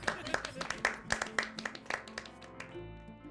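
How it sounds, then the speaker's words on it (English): Scattered clapping and laughter build into brief applause with some crowd noise in the video game The Life and Suffering of Sir Brante, then fade into a sustained musical tone. "You hear applause and laughter."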